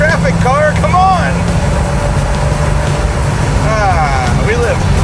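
A junkyard car rolls along and merges into traffic on the way to Pikes Peak, its engine a steady low drone throughout, with excited voices rising over it in the opening seconds and again near the end.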